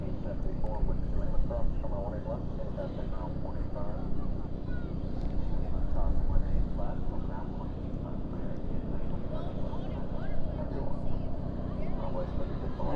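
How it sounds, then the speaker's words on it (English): An Alaska Airlines Boeing 737-900 departs at night from DFW airport, its jet engines a continuous broad roar that swells and holds over thirteen seconds, with muffled voices faintly in the background. "Alaska making its way up for departure over here."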